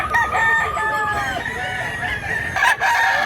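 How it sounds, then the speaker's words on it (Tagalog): A rooster in a rural Cebu village, Mantalungon in Barili, crows in long drawn-out calls, loud and close, with other fowl clucking faintly in the background. "Manok."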